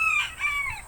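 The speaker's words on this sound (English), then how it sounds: "Sorry about the chickens," A rooster crows once among chickens, a short, clear, bright call heard close and alone.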